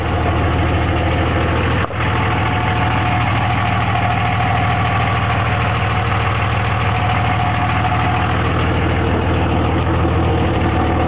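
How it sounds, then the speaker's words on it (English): Diesel truck engine idling steadily after a new Valair dual-disc clutch install, a loud, even low rumble with a constant mechanical drone and one brief dip early on, no talking. "Well, as quiet as a diesel truck can be."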